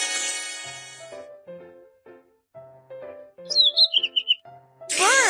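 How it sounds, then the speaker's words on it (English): Short chirping bird calls, a quick bright twittering run, set among soft plinking game music tones in the kids' game Baby Bus Baby Panda School Bus, followed by a sudden bright chime. "Bird."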